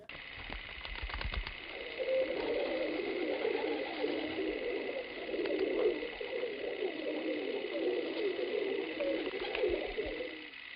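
Racing pigeons coo in a loft, a low rolling chorus of several birds that runs steadily and close, with a few brief clicks at the start.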